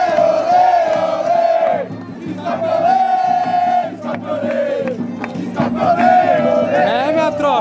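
A dense crowd of supporters roars and chants together in long sustained swells, loud and close, with voices rising and falling in unison at a keepy-uppy challenge event.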